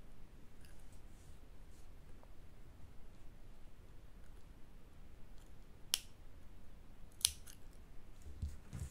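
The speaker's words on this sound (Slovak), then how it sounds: "A nožničkami si žltú odstrihnem." Small scissors snip yellow yarn during crochet work on a bee, giving two crisp, close cuts over a faint steady hiss.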